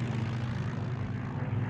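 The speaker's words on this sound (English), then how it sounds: "A real silver-winged plane with the rising sun is flying by" A steady low droning roar of a propeller airplane passing overhead, constant and fairly distant throughout.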